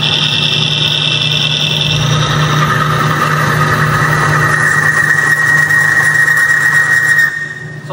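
An engine running with no lubricating oil drones loudly and steadily with a rising metallic squeal and vibration, then drops off abruptly just before the end.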